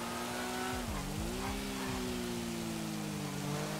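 Car tyres skidding and squealing on a rain-wet road in GTA V, a steady loud engine drone with rising and falling pitch and a wash of rain noise throughout, no talk.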